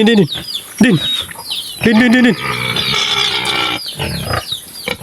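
Large pigs grunt and squeal up close in bursts, with birds chirping around them and someone talking nearby.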